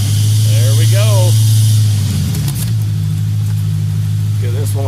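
The engine of a 1950 Ford F1 truck with a swapped-in 2000 Ford Explorer 5.0 AWD frame runs steadily at a low idle while it is being parked, loud and close, with voices talking over it.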